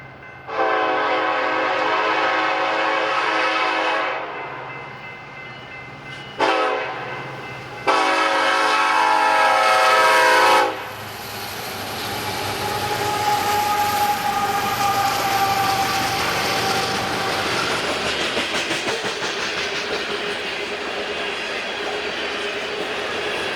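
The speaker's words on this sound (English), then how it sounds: "the BNSF coal load to Roberts Bank notches up from a crew change just down the line" A loaded BNSF coal train bound for Roberts Bank sounds its horn in several long blasts, then the locomotive engines rev up as it pulls away from a crew change, a loud rising rumble that settles into steady running.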